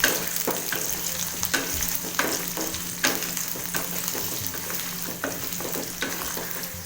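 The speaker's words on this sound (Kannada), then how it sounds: "ಇವೆಲ್ಲ ಪದಾರ್ಥಗಳನ್ನ ಚೆನ್ನಾಗಿ ಫ್ರೈ ಮಾಡ್ಕೊಳ್ಳೋಣ." Onion, dried red chillies and garlic frying in hot oil for a tomato chutney, a steady close sizzle broken by repeated scraping stirs of a spatula against the pan.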